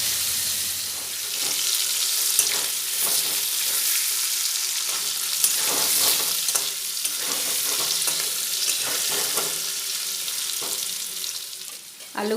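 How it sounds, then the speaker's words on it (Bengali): Potatoes frying in oil in a pan for a Bengali mutton kosha dish, a steady close sizzle with repeated scraping stirs throughout, no talking. "লবণ, দিয়ে ভালো করে নাড়াচাড়া করে লাল লাল করে ভেজে তুলে নেব।"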